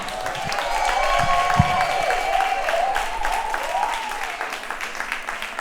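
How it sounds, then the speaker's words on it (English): Audience applause fills a live community event at Spirit Gates, a steady wash of clapping lasting several seconds, with a sustained tonal sound running over it. "Y'all keep clapping for Preach, a.k.a. AJ, a.k.a. Country Boy"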